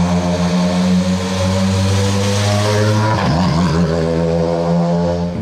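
A WRC rally car arrives in town during the 2022 Monte-Carlo Rally, its loud engine note holding steady, then dropping and shifting pitch abruptly partway through as it passes close by, with no voices.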